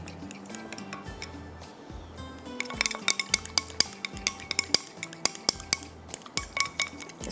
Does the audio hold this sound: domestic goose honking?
no